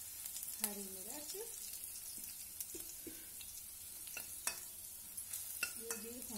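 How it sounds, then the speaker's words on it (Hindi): Curry leaves and green chilies are stirred in a pan, producing faint scrapes and light clinks at irregular intervals over a soft, quiet sizzle. Nobody speaks. "और हम इसको थोड़ा सा हिला देंगे।"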